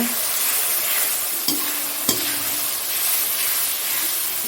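Food being stirred and sautéed in a pan after a little water is added, with a steady sizzle and hiss punctuated by a couple of sharp clanks of a spoon against the pan, close and continuous.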